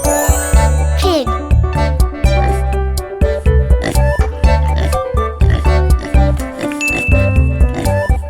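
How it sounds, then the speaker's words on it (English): Pig oinking in a farm-animal sequence for children, set against a busy musical backing with tinkling chimes; the grunts are hard to separate from the loud, steady music that runs throughout. "This is pig."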